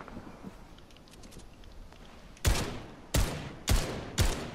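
Four sharp gunshots from players hidden in a bush in a shooter game, spaced roughly half a second apart after a quiet stretch of background ambience, fairly loud and nearby.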